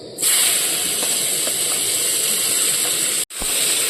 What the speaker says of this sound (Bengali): কড়াইয়ের মাছ ভাজা ওই তেলেই আমি পেঁয়াজ দিয়ে দেবো